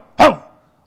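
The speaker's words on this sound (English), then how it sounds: "animals can talk or they can make noise like dog" A dog lets out one short, loud bark close by, followed by a brief fading tail and then silence.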